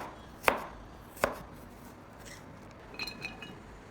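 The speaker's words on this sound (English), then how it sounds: "Next, thinly slice 5 to 7 cloves of garlic." Thin slicing of garlic cloves with a knife: two sharp close cuts on a board, then a few lighter taps and clinks near the end, with no talk.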